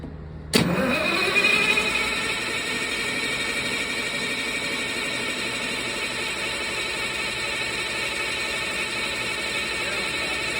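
A CAT C15 diesel engine cranks with a sudden loud burst and then settles into a steady, droning run, heard up close and alone throughout with a continuous high whine layered on top.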